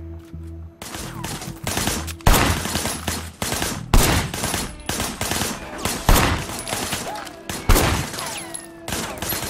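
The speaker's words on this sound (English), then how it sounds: "I want you to put some bullets in a few things." Bursts of automatic gunfire and rapid shots in the video game Sleeping Dogs during a dockside shootout from cover behind a barricade, loud and repeated in volleys, with a brief spoken voice.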